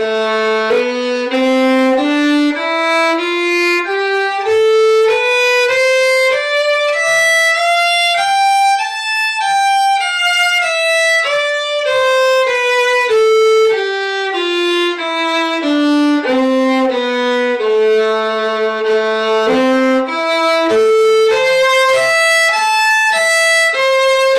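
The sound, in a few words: A natural minor scale played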